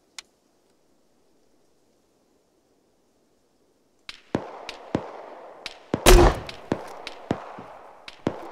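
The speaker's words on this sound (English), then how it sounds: "There's gunshots northish." Gunfire in Arma 3: a single sharp shot, several seconds of silence, then a burst of close, loud reports at an irregular pace, with one heavier blast in the middle.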